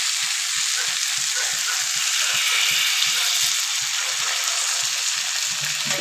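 New potatoes with fried spices sizzle hard in a pan as a little water is added, a loud continuous hiss over a quick, faint ticking of bubbles throughout.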